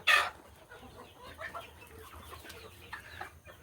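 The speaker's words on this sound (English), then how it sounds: "this girl has a name. Her name is Spur Chicken" A farm hen lets out a sharp, loud cluck at the start, then a string of softer, scattered clucks and murmurs nearby.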